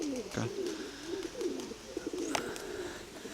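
Soft, low cooing from a grey female pigeon with an injured wing repeats in gentle rolling phrases, close by, with faint background noise and a few light clicks.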